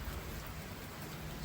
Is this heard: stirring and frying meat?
no